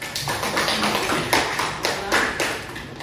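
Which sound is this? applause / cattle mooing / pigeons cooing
applause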